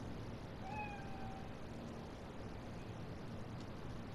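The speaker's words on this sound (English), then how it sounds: "Chill. Just a cat." A cat in Cyberpunk 2077 lets out one short, clear meow early on, set against a steady, fairly quiet hum of in-game ambience with no talking.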